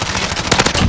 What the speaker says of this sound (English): We're running around guns blazing like Call of Duty is supposed to be played.